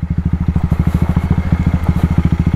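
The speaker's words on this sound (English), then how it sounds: "There's a fan because the motorbike's not going fast enough to get air." A slow-moving motorbike on a mountain road in Dalat, Vietnam, chugs with a loud, steady pulsing engine beat as its cooling fan runs, a low rhythmic throb close by with a hiss of rushing air above it.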